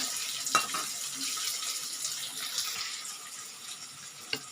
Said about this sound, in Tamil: வெங்காயமாக சேர்த்துக்கலாங்க இப்போ இதை வதங்கட்டோங்க